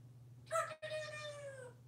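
A parrot mimicking a rooster's cock-a-doodle-doo, one short crowing call with a rising then drawn-out falling tone, clear and close over a faint low hum.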